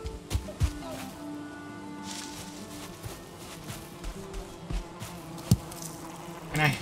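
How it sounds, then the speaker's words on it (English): Buzzing bees in a block-building survival video game, a steady insect drone with scattered clicks and soft game sounds underneath, fairly quiet throughout. "Oh, this one has bees."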